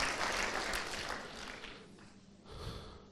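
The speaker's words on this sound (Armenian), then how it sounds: "Եկեք մի հատ գոհության ծափ ու աղաղակ բարձրացնենք մեր Տիրոջը" Church congregation clapping and cheering in praise, a dense wash of applause that swells loudly at first, eases off, then rises again near the end.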